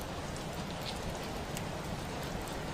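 Steady rain falls outside an old 150-year-old building on a cold street, a dense, even hiss with fine pattering drops, close and constant throughout with no gaps.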